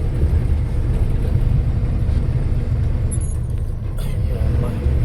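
Loaded Bharat Benz truck carrying 25 tons while climbing the Thoppur hills, a heavy, steady low engine drone heard from inside the cab, with a brief high squeal partway through.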